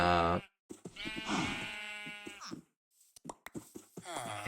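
In the video game Minecraft, sheep bleat in several separate, close, wavering cries with short silent gaps between them, with no talking.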